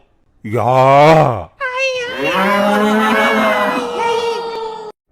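A buffalo bellows in a cartoon comedy set in Yamlok, with two loud, drawn-out lowing calls, a short one and then a longer one, close and clear with no talking over them.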